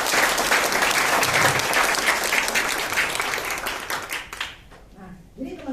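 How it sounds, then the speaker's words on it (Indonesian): Loud, dense applause from an audience at a sales sharing session, sustained and then tapering off toward the end as a voice starts speaking. "Beri tepuk tangan untuk dia."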